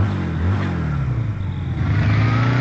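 Motorcycle engine revving near a railway station, a steady close drone with rising and falling tone, continuous and fairly loud throughout with no talk.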